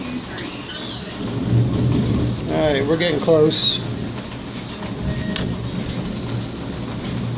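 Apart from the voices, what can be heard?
thunderstorm with rain and thunder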